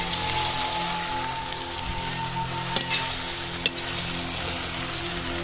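Whole potatoes fry in a roasted masala gravy, giving off a steady soft sizzle with a few sharp scrape and clink sounds as a spoon stirs them, close by.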